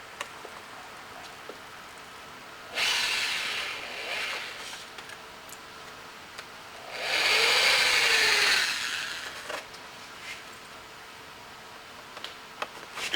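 A power drill boring through race motorcycle bodywork, two whirring bursts a few seconds apart, the second louder and longer, with faint workshop ticks and clatter between them.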